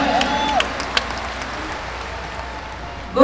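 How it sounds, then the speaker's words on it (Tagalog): An audience claps and cheers at an anniversary event for Aim Global, a short burst that fades under the room's murmur before a voice breaks in at the end. "bigyan natin ng milyon-milyon palakpak ang nag-isa kong asawa"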